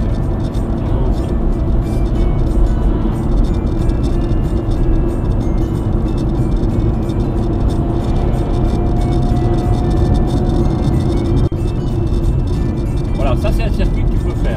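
A car accelerating on a road during a driving lesson, its engine and tyre drone loud and steady throughout from inside the cabin, while an instructor speaks over it.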